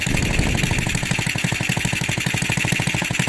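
A Honda XRM 110 motorcycle engine with its carburetor set low runs at a steady idle, a loud, even putter of rapid regular firing pulses throughout with no talking.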